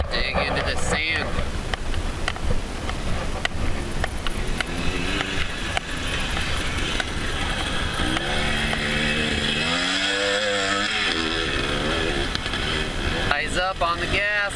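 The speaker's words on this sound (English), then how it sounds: "Let that tire eat. Let that bike get some traction. Gotta dig into the sand." A dirt bike accelerates through sand during whoops training, its engine droning and rising in pitch as the rear tire digs in, with someone talking over the motor noise.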